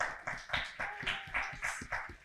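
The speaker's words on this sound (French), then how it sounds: "On applaudit." An audience at a church teaching session on spiritual gifts claps together in a steady, rhythmic pattern of sharp bursts, moderately loud, with no talking over it.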